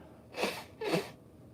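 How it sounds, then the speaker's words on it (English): Two quick sneezes, close and fairly soft, each a sharp burst of breath, separated by a short pause in an otherwise quiet space. "the salt in the pack is making me sneeze and choke."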